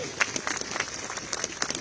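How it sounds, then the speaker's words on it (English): Crowd applause at an outdoor protest rally outside a proposed Chinese mega embassy, a moderate patter of clapping that runs steadily through the whole moment with a few sharper peaks. "Please give them a round of applause."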